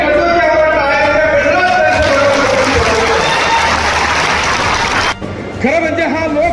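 Crowd at a political rally applauding steadily, a broad wash of clapping that swells and then cuts off sharply near the end, with someone speaking over it through a loudspeaker.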